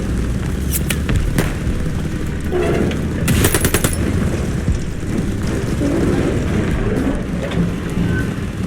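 Gunfire in Call of Duty: Vanguard's Stalingrad mission, scattered distant bursts and shots over a dense rumbling, rain-like battlefield wash, with a few sharper nearer volleys.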